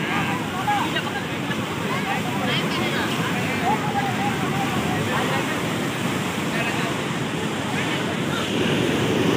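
Floodwater rushing along the swollen Ajay river, a constant loud roar of churning water mixed with wind buffeting the microphone, steady from start to finish.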